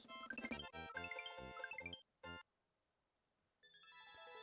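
A mobile phone ringtone plays a bright melodic pattern in repeated bursts, stops, and then starts again, fairly close with no talk over it.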